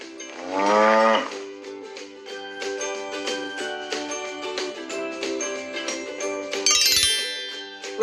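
A cartoon cow gives one loud, drawn-out moo over a bright, jingly musical backing, which then continues with chimes and sparkling tones.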